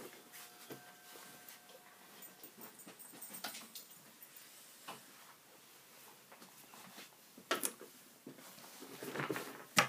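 A dog whimpers faintly and shuffles about indoors, with soft scattered thumps, claw clicks and rustles spread unevenly across the stretch, no talking.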